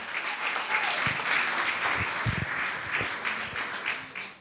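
A church congregation applauds during a sermon, a dense, even wash of clapping that holds steady for several seconds with a few sharper hits, then fades slightly at the end.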